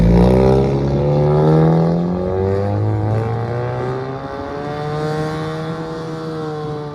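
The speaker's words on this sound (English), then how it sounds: "Here we go. Honda Civic Sport." A 2024 Honda Civic Sport with a 2.0L engine and straight-pipe exhaust drives by, its loud raspy engine note rising and falling through gear changes, continuous and close throughout with no talking.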